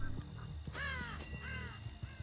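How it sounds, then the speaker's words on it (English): A crow in a horror video game gives two loud, harsh caws close by, over a busy background of game ambience and clicking. "Crow just came back over there."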